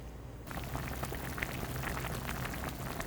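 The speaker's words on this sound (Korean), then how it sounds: "지금은 그냥 일반 찌개 끓이듯이 보글보글 소리가 나죠" Gochujang stew boils in a pot, a steady, dense bubbling and popping that starts abruptly and carries on evenly at a moderate level, close by and without talk.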